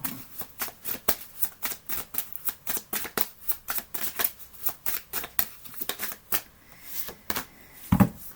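Oracle cards being shuffled by hand, a rapid series of crisp papery riffles and slaps in a steady rhythm, close and fairly quiet, ending with a soft thud.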